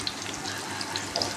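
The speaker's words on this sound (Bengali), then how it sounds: "আমি এখানে মিডিয়াম আঁচের থেকেও কম, মানে একবার লো আঁচের থেকে একটু বেশি আঁচ দিয়ে ভাজছি পেঁয়াজিটা।" Onion fritters (piyaju) fry in oil over low-to-medium heat on an electric stove, a soft steady sizzle with small bubbling pops, close and fairly quiet.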